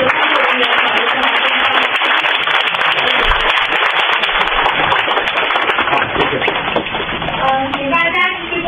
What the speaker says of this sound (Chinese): 让我们再次用热烈的掌声感谢秦晖老师到来